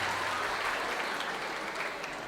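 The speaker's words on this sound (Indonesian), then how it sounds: "Tepuk tangan untuk kita semuanya" Applause from students at a history-week seminar at an Islamic boarding school in Malang, a continuous even roar of many hands clapping, full and fairly near, with no voices over it.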